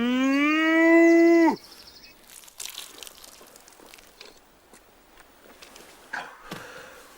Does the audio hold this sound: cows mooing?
yes